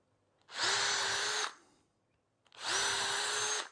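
Power drill boring holes into a piece of scrap timber in a woodworking shop, two steady high-pitched whirring runs of about a second each, separated by a short pause, close and clear.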